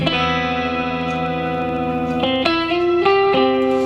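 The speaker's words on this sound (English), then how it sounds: "there's a bit of pitch shifting going on in there as well. You hear the octave." Sustained electric guitar chords through a shimmer pedal, drenched in reverb and effects, with a bright shimmering tone; new notes enter later, pitch-shifted an octave up, layering an airy, higher octave over the wash.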